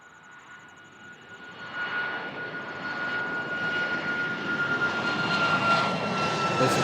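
Jet airliner engines roar steadily at Toronto Pearson airport as a Boeing 737 NG takes off from runway 05, the broad engine noise building louder over several seconds with a thin steady whine on top.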